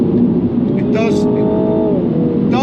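A Mercedes SLK 55 AMG engine drones and pulls hard out of a corner, a loud steady in-cabin roar with rising tones, while someone talks over it.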